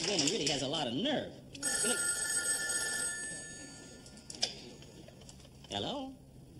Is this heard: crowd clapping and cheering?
no